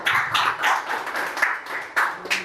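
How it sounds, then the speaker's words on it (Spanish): Applause for Jurian rings out at an award event, a burst of close, rapid hand claps rising and falling for a couple of seconds with no talk over it. "un fuerte aplauso para Jurian"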